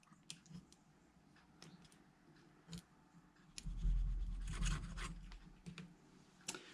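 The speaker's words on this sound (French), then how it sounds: "Donc là je vais découper tranquillement" A clamp collar on the driveshaft boot of a 1980s Peugeot 205 GR is trimmed by hand, giving soft irregular scraping and clicking cuts that grow louder and rougher midway, close up with no talk.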